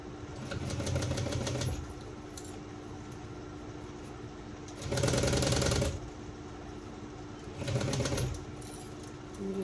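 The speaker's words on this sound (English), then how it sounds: "So this is just like a little basting stitch here." Sewing machine running a basting stitch at an eighth-inch seam allowance while making a shoulder bag: three short bursts of rapid mechanical whirring, each a couple of seconds long, separated by quiet pauses.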